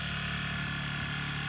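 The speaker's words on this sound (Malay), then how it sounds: "jom kita dengar bunyi enjin dia dulu selepas start" Motorcycle engine idling right after starting, with the idle speed running high on its own; a steady, continuous low hum and buzz holds evenly throughout without revving or any voices.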